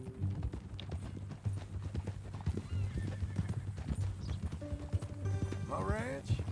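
Steady clip-clop of horse hooves from a horse in the Red Dead Redemption 2 video game, a continuous rhythmic trot under character dialogue, with a whinny near the end.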